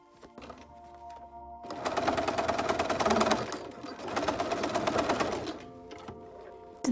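A sewing machine stitches an opening closed to encase elastic, running in two steady, fast bursts with rapid needle chatter and a short pause between them, close and fairly loud.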